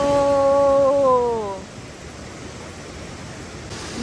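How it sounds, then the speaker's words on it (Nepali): A waterfall by a slippery cave path gives a constant broadband rush of falling water, with a tonal whistle-like sound gliding down over the first second and a half before the steady roar continues alone. "झर्ना"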